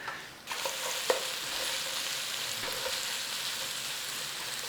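An onion fries in a pan, a steady broad sizzle that kicks in after a brief quiet start, with a few sharp stir knocks against the pan; close and continuous with no talking.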